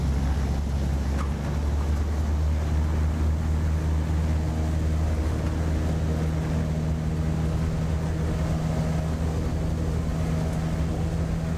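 A Maule M-7-235B light aircraft engine in the X-Plane 12 flight simulator runs at full power, giving a loud, steady droning roar with a constant low hum and a wind-like hiss throughout.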